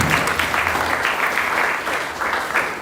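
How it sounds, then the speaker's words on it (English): An audience at a 35th anniversary celebration breaks into a big round of applause, dense continuous clapping from a crowd, loud and sustained throughout. "So I would like to thank and give a big round of applause to all of you."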